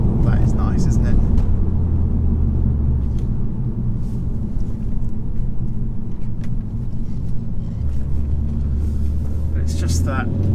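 Engine of a 2016 Ford Focus ST-3 diesel rounding a roundabout with traction control off, a steady low droning rumble from inside the cabin under continuous talk.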